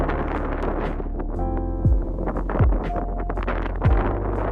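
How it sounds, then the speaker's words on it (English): Strong wind buffets the microphone outdoors, a continuous low roaring rumble with gusting swells, overlaid by sharp descending whooshes and a few tonal musical sounds. "I think it might be a little too windy for an umbrella."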